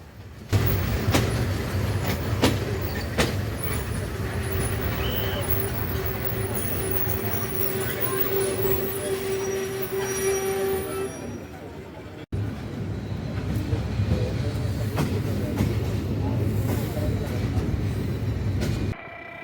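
The Mohanagar Godhuli Express stands at or rolls through Gunabati station in Comilla district, giving a steady low rumble with brief squeals and clatter, a short break midway, and talk in the background.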